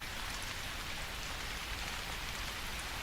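Steady rain falling on surfaces, a dense, even hiss of many drops that continues without break at a moderate, fairly distant level.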